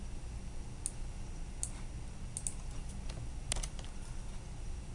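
Computer mouse clicking through a medication records screen: sparse, faint, sharp clicks spaced irregularly, heard alone over a low steady hum.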